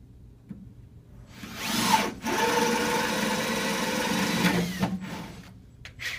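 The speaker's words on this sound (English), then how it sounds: "drill a hole half inch thick right in the center of the stud so we can get the wire into this box" A power drill bores a half-inch hole through the centre of a wooden wall stud for house wiring, with one sustained loud grinding whine of about three seconds, close by, plus a short start and a trailing rattle.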